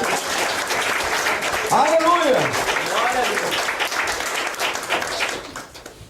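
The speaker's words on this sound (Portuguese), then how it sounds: "Vamos aplaudir o nome de Jesus." Congregation applauding the name of Jesus at a church service, steady broadband clapping throughout with a loud voice shouting over it and singing-like tones rising in the middle, fading toward the end.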